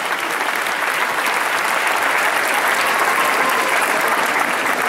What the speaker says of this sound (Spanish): le damos fuerte el aplauso